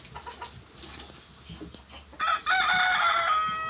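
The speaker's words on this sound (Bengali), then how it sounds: "এই যেখানে দেশি মুরগিও আছে, চীনা মুরগিও আছে মাশাআল্লাহ।" Local and Chinese hens cluck softly on a farm in Buraidah, Al Qassim, Saudi Arabia, then a rooster lets out a loud, drawn-out crow close by that carries to the end.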